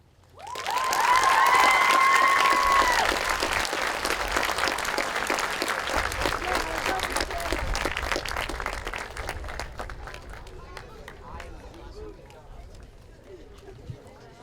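Applause from the audience at a middle school 8th grade graduation ceremony, starting loud and dense with some cheering, then gradually thinning into scattered clapping and murmurs.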